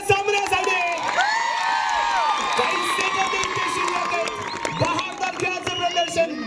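Spectators at a kabaddi match in Ratnagiri clap and cheer, a dense crowd roar with whoops and shouts running continuously, while an announcer's voice carries over the noise.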